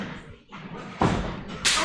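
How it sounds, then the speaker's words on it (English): A wrestler's forearm strike smacks into an opponent's face during a championship bout at a promotion event, a sharp thud standing out twice against steady crowd and arena noise. "Devastating forearm to the face of AK"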